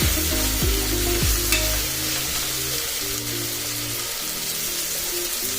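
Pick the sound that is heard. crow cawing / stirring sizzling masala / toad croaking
stirring sizzling masala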